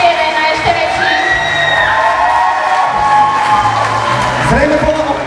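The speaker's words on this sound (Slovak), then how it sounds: "Myslím si, že ešte jeden potlesk." Crowd applauding and cheering at an engagement party celebration, a dense continuous wash of clapping with whoops and shouts, loud and close throughout, with a loud voice calling over it.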